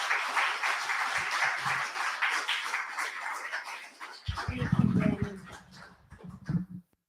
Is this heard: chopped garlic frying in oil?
no